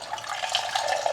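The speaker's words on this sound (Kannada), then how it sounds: "ಫಸ್ಟಿಗೆ ಒಂದು ಸ್ವಲ್ಪ ನೀರನ್ನು ಹಾಕ್ಕೊಳ್ತೀನಿ" Water poured into a cup at home while cooking, a brief close trickling and splashing stream lasting about a second.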